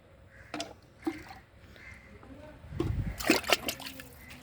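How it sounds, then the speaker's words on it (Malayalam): Water poured from a vessel onto spinach plants in a home garden bed, giving soft splashes and a louder gush of splattering near the end, with faint background noise. "ഇനി നല്ലോണം വെള്ളം ഒഴിച്ച് കൊടുക്കണേ"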